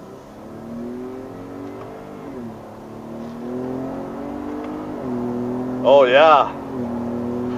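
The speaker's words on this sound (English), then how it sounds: "So now I'll be able to accelerate a little bit. Try to get up to 60 once again." Ford Raptor truck set to manual two-wheel drive, accelerating hard through its gears with paddle shifters, engine note rising steadily over several seconds beneath a man's brief spoken remark, with a louder surge near the end.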